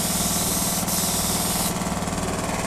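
A cheap spray gun sprays gelcoat onto a boat in a continuous, loud, close hissing rush that shifts slightly in tone partway through as the flow changes.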